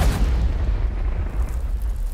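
Artillery in the video game Warfare 1944 rumbles as a heavy, sustained low boom of distant shelling, loud and dense throughout with no separate blasts standing out.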